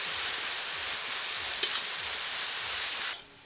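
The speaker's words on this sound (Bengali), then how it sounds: "খুব ভালো করে এবার মশলাটাকে কষিয়ে নেব।" A steady, close sizzle of masala spice paste frying in a pan with a splash of water for chicken khichuri, continuous and bright, with one small clink partway before it cuts off abruptly near the end.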